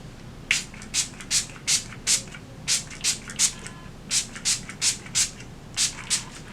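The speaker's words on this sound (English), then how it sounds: "I'm just going to spray it as normal." Rapid short spritzes of a makeup setting spray mist, about twenty quick hissing pumps in a fairly steady rhythm, close and clear with no talking.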